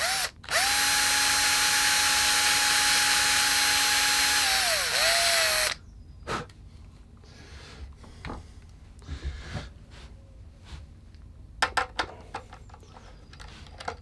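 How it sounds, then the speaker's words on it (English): A power drill whines steadily at close range for about five seconds while boring a hole in a guitar headstock, then winds down, followed by quiet clicks and handling noises. "I can use my drill bit and very carefully drill the first hole"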